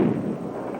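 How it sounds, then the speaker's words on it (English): A single sharp, loud bang like a gunshot opens the moment, its low thump decaying into a dull, reverberant rumble. "That sounded just like a gunshot."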